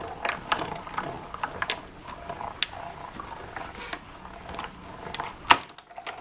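A die-cutting machine with a magnetic plate pushes card through a stitch die, giving a steady run of mechanical ratcheting and gear clicks with a sharper crunch near the end, close and clear with no talking.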